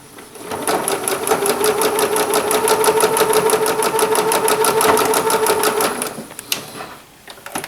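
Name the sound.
sewing machine chain piecing flying geese quilt units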